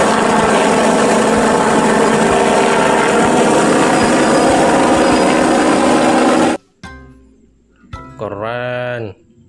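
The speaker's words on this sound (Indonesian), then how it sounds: "ini ada helikopter polisi ya teman" A loud, steady whirring toy helicopter noise plays for several seconds, then cuts out, followed by brief speech and a short siren-like warble.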